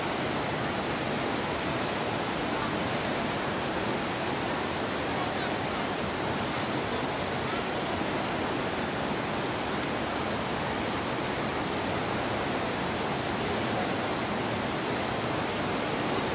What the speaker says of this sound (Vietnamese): con sông rất lớn.